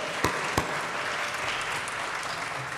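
A church congregation at Sunday morning worship applauding Dr. Burnett, steady dense clapping from many hands filling the room, with a couple of sharp nearby claps standing out early on.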